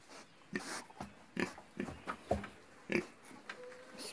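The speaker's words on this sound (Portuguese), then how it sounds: "Agora vou mostrar para vocês aqui os porquinhos que tá aqui já engordando pro Natal" Pigs being fattened for Christmas on a small farm grunt and oink in a series of short, irregular snorts at close range, with no talking.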